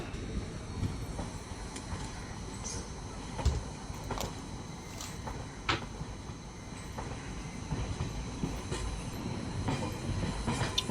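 Train running in a video game, a continuous low rumble of rolling wagons with scattered clicks and rattles, steady and fairly loud throughout with no voices.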